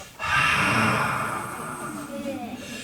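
A storyteller's voice imitates a hog blowing hot breath onto an egg: one long, loud, breathy exhale that swells quickly and then slowly fades over a couple of seconds.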